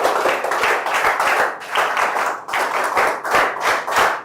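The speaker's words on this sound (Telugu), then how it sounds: "గట్టిగా చప్పట్లు కొట్టి అందరూ అభినందించండి" A classroom of schoolchildren applauds to congratulate ranked students. Loud, close clapping comes in several rhythmic bursts, each rising and fading, with short gaps between them.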